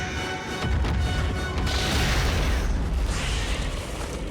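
A grenade blast from the movie Starship Troopers, a loud, sustained roaring boom with heavy low rumble and crackling debris that fills the whole moment and holds steady before cutting off.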